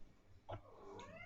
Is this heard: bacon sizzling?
no